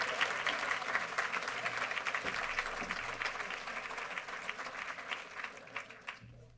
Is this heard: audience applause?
yes